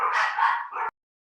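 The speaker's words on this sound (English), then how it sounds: "My dog's here and his dog's barking" A dog gives a single short, harsh bark heard close over a voice-call line, cut off abruptly and followed by silence.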